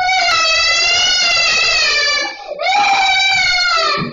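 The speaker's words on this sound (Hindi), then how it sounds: "बच्ची चिल्ला चिल्ला कर मदद की गुहार लगा रही है।" A young girl trapped in a lift in a Lucknow apartment building screams loudly and continuously, one long high-pitched cry followed by a second after a brief break for breath.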